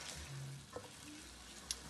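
Fennel and onions fry in a pan with a faint, steady sizzle and a couple of small clinks or stirs, heard quietly and close with no talking.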